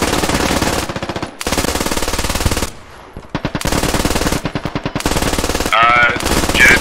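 Bursts of automatic machine gun fire in a military video game, several long rapid strings separated by brief pauses, loud and close, with a short stretch of voice chatter partway through.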